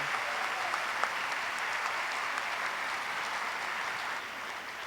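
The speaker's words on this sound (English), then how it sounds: "So please give us a round of applause" A conference audience at a 50th anniversary world leadership event gives a round of applause, a steady, even roar of many clapping hands that eases off slightly near the close.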